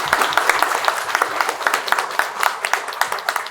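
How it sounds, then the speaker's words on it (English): Applause from an audience at a school library activity, a steady dense patter of many hands clapping close by, continuing evenly throughout without voices on top. "That demands a big round of applause."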